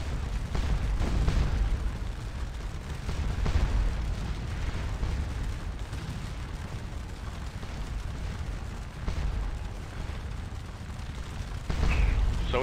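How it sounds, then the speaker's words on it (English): Canister artillery fire in the Scourge of War Waterloo battle game, a continuous rumbling roar of cannon blasts and bursts, with heavier booms rising through the dense barrage. "And the canister fire keeps on a-coming."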